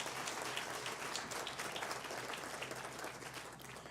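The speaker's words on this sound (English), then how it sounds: "Can we please give both of them a big," A big round of applause from the crowd at a groundbreaking ceremony for the Stephen Klein Wellness Center, with steady, dense clapping that holds at a fairly even level throughout.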